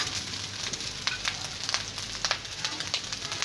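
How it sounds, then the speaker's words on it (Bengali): Leftover rice fries in a pan with a soft, continuous sizzle and occasional light scrapes of a spatula, fairly close and steady throughout. "আমরা এখন এটাকে সুন্দর করে একটু ভাজলেই ভাজা ভাত রেডি হয়ে যাবে"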